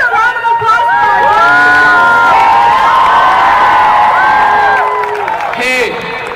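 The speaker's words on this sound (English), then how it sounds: "Can I get a round of applause for you?" Loud, sustained crowd cheering at an SF Bay Area youth and allies climate strike, with children's shouts, whoops and whistles rising and falling over scattered clapping throughout.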